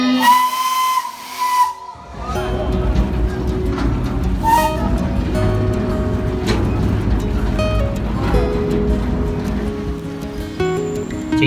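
A small narrow-gauge steam train at Xihu Sugar Factory in Changhua blows a loud, sustained whistle, then breaks into heavy hissing steam and chuffing rumble close by, with faint voices in the background.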